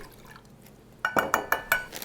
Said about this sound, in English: We are going to put a 1/2 cup of this balsamic vinegar in this little pot.